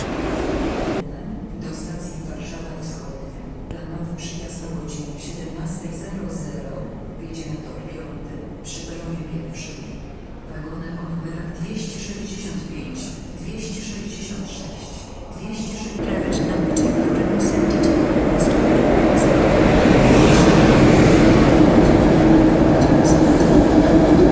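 The Berlin-Warszawa Express train pulls into Warszawa Centralna station, rolling and clattering louder as it nears, building to a steady roar in the second half, with people talking nearby.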